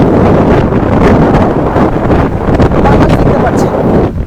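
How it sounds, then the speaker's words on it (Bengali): Strong wind buffets the microphone aboard a sailboat at sea under rain clouds, a loud continuous rumbling roar that persists throughout with slight gusting swells. "এখানে প্রচুর বাতাস"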